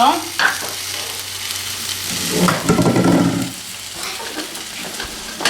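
Oregano and basil are stirred into a heating pan, with a spoon scraping over steady sizzling frying, swelling loudest midway and then easing, close and alone without talk.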